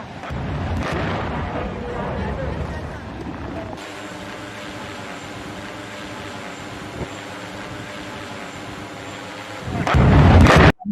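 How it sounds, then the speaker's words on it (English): A settlement being blown up: a heavy, rumbling explosion roars across the opening seconds, then a long sustained low roar lingers, and a second loud blast erupts near the end. "يتم تفجير هذه المستوطنة"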